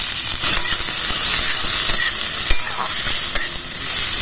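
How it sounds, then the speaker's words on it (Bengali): Chopped onion frying in hot oil with garlic and dried chillies, a loud, constant sizzle up close, with spatula strokes scraping the pan every second or so. "এইভাবে পেঁয়াজটা ভেজে নিতে হবে।"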